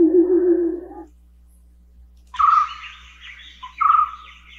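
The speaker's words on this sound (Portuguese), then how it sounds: "Vou pegar aqui uns passarinhos." Short sampled birdsong snippets, a burst of chirping at the start, then a pause, then two brighter bursts of tweeting calls, clear and close with no voices.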